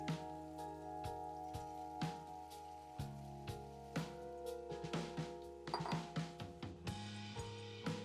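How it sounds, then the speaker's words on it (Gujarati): Peanuts and jowar dhani (sorghum puffs) poured into a bowl make a steady pattering of small dry pieces, with sharper clicks here and there over soft background music. "હવે આપણે નાખી દઈશું આપણા પીનટજીના સિંગદાણા અને આપણી જુવારની ધાણી"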